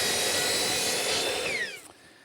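A power tool trims a wooden piece for a poker table, giving a steady, bright rasping whine up close that tapers off and stops near the end.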